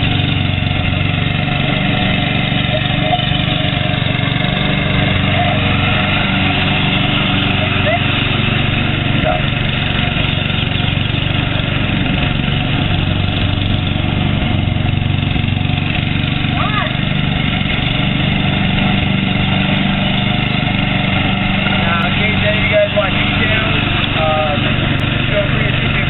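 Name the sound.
radio control lawn mower engine running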